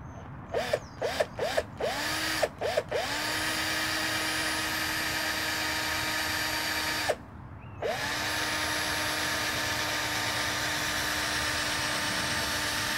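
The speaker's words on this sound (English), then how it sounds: "So let's drill a few holes." Power drill boring holes in wood outdoors, a few short stuttering bursts of the motor whine at first, then a long steady drilling run that pauses briefly and resumes, loud and close with no talk.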